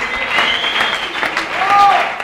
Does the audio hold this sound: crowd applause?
yes